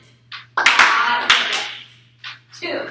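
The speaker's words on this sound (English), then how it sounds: "You guys clap it out." Children in a classroom clap out the syllables of a word in a few short sharp claps mixed with their chanting voices, close and loud over a steady low hum.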